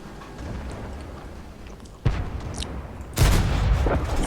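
Artillery fire booms in World of Tanks: two sudden heavy blasts land about a second apart, each leaving a broad roaring tail over steady battlefield noise.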